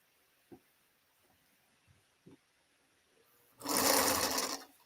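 After a few soft taps and knocks, a sewing machine bursts into a single short run of close, fast stitching while pieces are joined, then stops.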